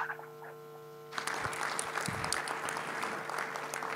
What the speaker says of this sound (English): I hope you can hear the applause.